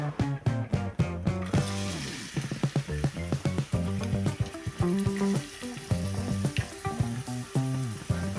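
Chopped onions sizzle in hot coconut oil in a pan, a close frying hiss mixed with fast, rhythmic clacks and scraping, over a repeating tonal hum that pulses on and off in the background.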